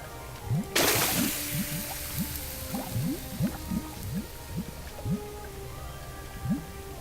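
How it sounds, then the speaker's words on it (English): Water sloshes and drips as it is stirred in a cooking pot with ghost mushrooms in the video game The Book of Unwritten Tales, a string of short liquid swishes after one brief splash, fairly close. "Put ghost mushrooms into the pot and stir until the water turns green."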